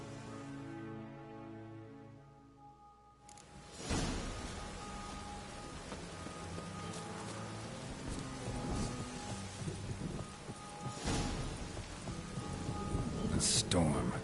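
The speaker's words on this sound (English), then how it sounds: "A storm, damn it." A heavy thunderstorm in the video game The Witcher 3 breaks in with a loud thunderclap, then steady rain hisses over wind with further rumbling cracks, following a short stretch of music and speech.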